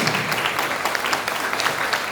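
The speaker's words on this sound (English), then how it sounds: "I would like you to clap for Sir." An audience at a university talk claps, a full, continuous patter of many hands with slight swells, fairly loud and without any voices.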